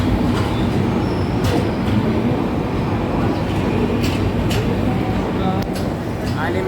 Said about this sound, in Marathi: आणि आता 3:30 वाजता फक्त 2-3 मिनटं राहिली ट्रेन आलेलीच आहे